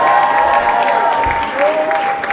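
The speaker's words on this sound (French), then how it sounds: "On va applaudir la projection avec Siméon." Crowd clapping at a Christmas church celebration, a steady loud patter of many hands with faint cheering mixed in, a held tone gliding underneath.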